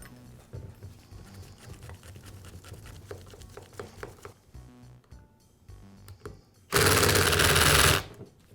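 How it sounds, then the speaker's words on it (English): A cordless impact driver tightens screws on a Milwaukee reciprocating saw during a bearing repair, giving a loud, steady burst of hammering rattle about a second long after a stretch of quieter workshop clatter. "Then I'll use my impact to finish up."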